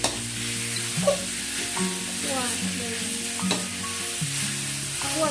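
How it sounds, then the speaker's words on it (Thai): Minced pork for northern Thai larb is stir-fried and scraped around a hot pan, a steady sizzle broken by repeated spatula scrapes and knocks, close and continuous with no voices. "เราจะคั่วให้สุกน ะคะ"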